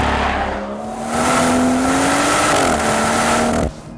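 A 2018 BMW M240i xDrive launches hard off the line in Sport Plus mode with traction control off, its engine note rising loud and close with a brief shift dip before cutting off abruptly.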